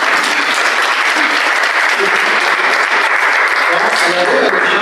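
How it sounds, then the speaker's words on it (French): A conference audience breaks into loud, dense applause for a girl, a steady wash of clapping with no pause throughout, close and full. "On l'applaudit, ma fille."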